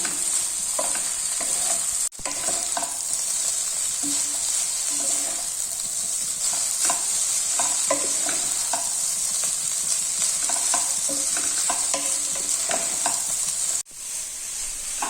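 Instant noodles with vegetables, capsicum and pepper are stirred in a hot pan, a continuous close sizzle with frequent light scraping strokes throughout and no talk.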